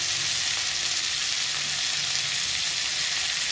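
Garlic, coriander, mint and curry leaves sautéing in hot oil give a steady, bright sizzle that stays even and close for a few seconds, with no talking.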